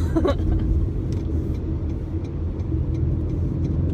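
A steady low engine rumble with road noise from a 2019 Acura RDX Platinum Elite SUV cruising at 52 mph, loud and continuous throughout.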